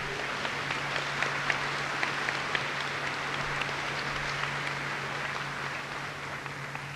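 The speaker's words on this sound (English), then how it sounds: "he deserves a round of applause" A crowd at a high school graduation ceremony applauds the mayor with sustained, even clapping that stays level for about seven seconds, with a low steady hum underneath.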